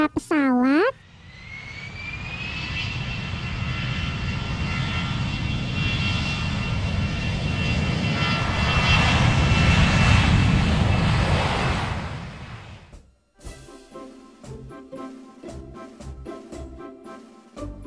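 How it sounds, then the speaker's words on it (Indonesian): A loud jet airplane roar swells and holds steady for several seconds, broad and rumbling, then cuts off abruptly, followed by brief music. "suara pesawat."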